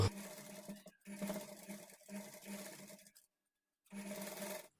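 A sewing machine stitches a blouse lining in three quick runs of steady whirring, each stopping briefly, then a silent pause before another run; close and alone.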